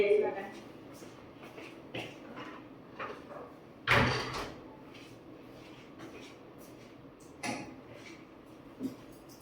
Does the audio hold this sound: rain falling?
no